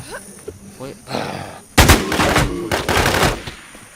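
Loud, rapid automatic gunfire from a shooter video game comes in dense bursts after a quieter opening, with a faint voice underneath.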